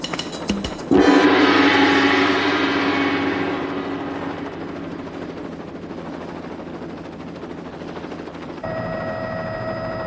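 A large helicopter's rotor thumps rapidly and loudly after a sharp onset, the rhythmic chopping fading slightly as it continues, then a whining turbine tone joins near the end.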